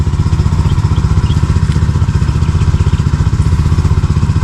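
An engine-powered pesticide sprayer runs close by in a garden, treating tomato plants against insects. Its small motor makes a loud, steady, rapid putter with a fast pulsing rhythm throughout.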